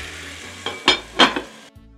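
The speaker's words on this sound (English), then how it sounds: "I cover and leave it to simmer" A pot of pumpkin talkari on the stove with a soft background sizzle, broken by two sharp metallic clanks of the lid being set on, then a quieter low hum.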